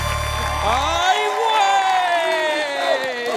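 A studio audience at a late-night comedy show, the Platanito Show, cheers and applauds loudly and continuously, mixed with whistles and bright tonal sounds after a brief low hum at the start.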